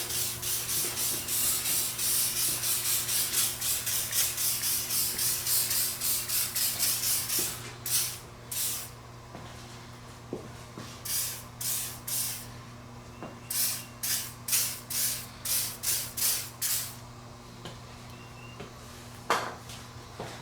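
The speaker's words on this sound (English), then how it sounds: "I'm gonna go ahead and just spray everything with a little bit of WD-40." Repeated short hissing bursts from a WD-40 aerosol can sprayed on M52 engine parts, a long continuous spray and then quick pulsed squirts, close by over a low steady hum.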